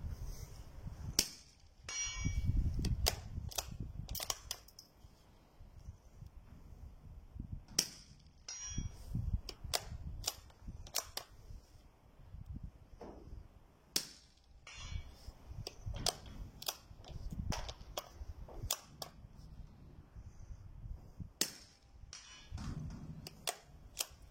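A Webley & Scott Xocet air rifle fires repeatedly at target practice, giving sharp, dry cracks at uneven intervals, with metallic clicks and handling noise between shots and no talk.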